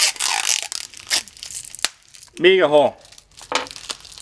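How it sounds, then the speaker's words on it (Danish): Adhesive tape torn off a roll and wound tightly around a ball of material, giving a quick ripping burst among crinkly handling noises, with people talking before and after. "Og så skal I bare tape rundt om alt det, I kan."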